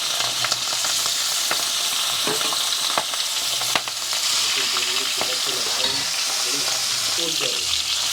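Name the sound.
tangra fish frying in hot oil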